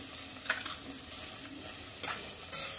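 Capsicum stir-fried with onions in a pan for soybean chilli, a steady close sizzle with a few scraping stirs of the spatula, no talking.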